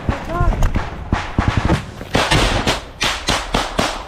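Single gunshots during a front-line ambush on motorcycles, heard as a series of sharp, loud cracks at irregular intervals, close by and mixed with voices.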